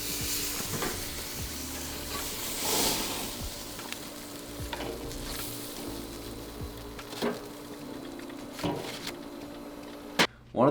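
Steak cooking on a grill or pan over low heat, a continuous soft sizzle with occasional scraping and stirring sounds and small clatters, ending with a sharp knock.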